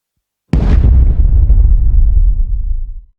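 A single loud explosion of a group of kaiju in an anime bursts suddenly, then rolls into a long, rumbling decay that fades out over a couple of seconds.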